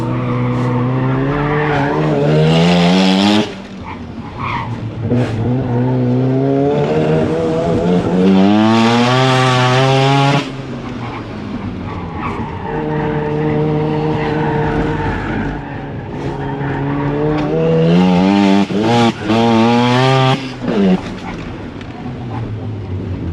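A Porsche is driven fast through corners on a racetrack, its engine rising and falling loudly through repeated rev sweeps between bends, with tire noise layered in.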